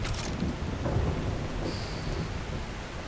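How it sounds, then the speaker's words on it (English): Rain falling steadily in a video game world, with a deep rolling rumble of thunder early on, a dense hiss of rainfall continuing throughout at moderate loudness, no voices. "Rainy, rainy, rainy, isn't it?"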